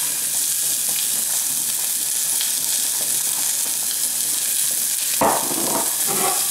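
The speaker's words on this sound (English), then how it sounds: "pan on the heat," Onion sizzles steadily in a hot pan, a loud, dense crackling hiss with a brief burst of stirring or movement near the end and no talking.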